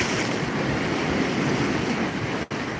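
Ocean surf washing up on a beach in Benidorm, a steady broad roar of breaking waves with wind buffeting the microphone and a brief dropout near the end, and no talking.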